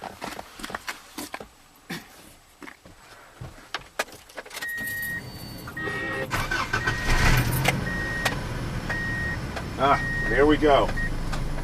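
A Subaru with a repaired fuel pump cranks and starts after some key jangling and handling noise, then settles into a steady idle, with a brief spoken remark and chime-like beeps over the engine.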